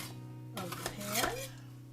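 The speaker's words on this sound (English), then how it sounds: "We're going to loosen up the edges" A utensil scraping around the edges of a baking pan to loosen beer bread, brief metallic scrapes and clinks close by over a low kitchen hum, with a voice briefly audible.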